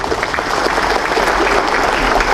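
Audience at a Tzu Chi community year-end blessing event claps steadily, a dense continuous patter from a sizable crowd filling the hall.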